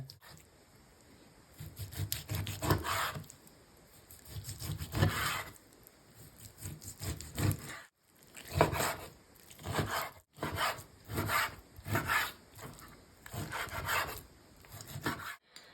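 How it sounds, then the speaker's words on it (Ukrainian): Pork being sliced by hand into small pieces, a kilogram of meat cut on a board; close, dry rasping and scraping strokes come in repeated bursts with short pauses, no voices. "Беремо кілограм м'яса і нарізаємо невеличкими шматочками."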